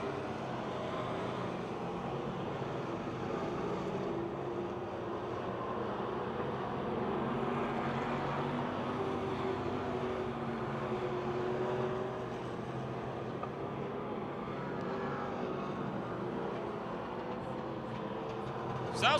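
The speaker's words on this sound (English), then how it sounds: "Jake the Snake sounds like he's got a little problem under the hood. Car's starting to miss." A race car running laps at Pennsylvania Motor Speedway with its engine starting to misfire, a steady broadband engine roar held at a fairly even level throughout, with a sharp burst right at the end.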